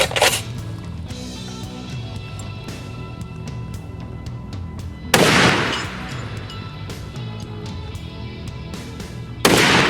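A large-calibre rifle fires a 750 grain Hornady AMAX bullet into a 3/8 mild steel target, giving two loud, sharp shots several seconds apart, each with a booming decay, over a quiet outdoor background.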